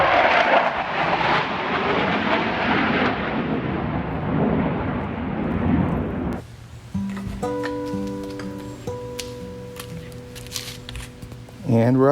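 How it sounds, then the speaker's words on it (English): A loud F-16 fighter jet roars low overhead for several seconds and fades, followed by music and scattered background sounds. "There's been some crazy like F-16 flyovers too."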